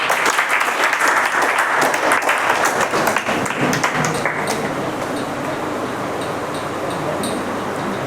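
A coaching-class group applauds a third-place student at a test award session, with dense, loud, continuous clapping from many hands that fades slightly toward the end.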